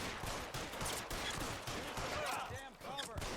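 Gunfire during a shootout in the video game L.A. Noire, rapid bursts of shots and ricochets running continuously with a person talking over the action.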